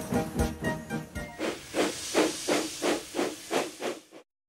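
A steam locomotive's chuffing hiss pulses in a steady rhythm of about nine bursts, loud and close, with no clear whistle tone before it cuts off.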